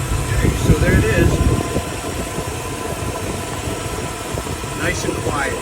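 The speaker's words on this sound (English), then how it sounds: "I'm now going to go ahead and lower the car, start it up" Steady low rumble of a car engine idling smoothly and quietly after an exhaust gasket repair, heard close with faint mechanical hum throughout.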